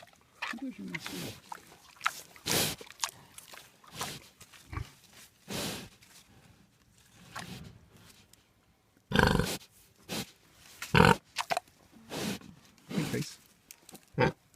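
Deep, rough grunts and snorts from a pig come in irregular bursts, some loud and close, with quieter breathing in between.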